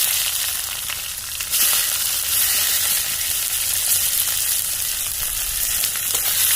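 Onions frying in hot oil in a pan, a steady loud hissing sizzle that runs the whole time, with small crackles and a slight stirring scrape.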